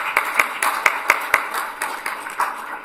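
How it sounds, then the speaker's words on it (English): Applause from councillors and attendees at a council meeting during a mayoral election session, with steady mid-level clapping and a few sharper individual claps standing out across about three seconds. "so give her a round of applause for that"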